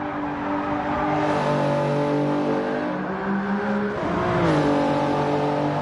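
A Toyota Supra with CCR livery in an open-lobby racing game, engine droning and revving with pitch sweeping up and down through gear changes, loud and close with no talking.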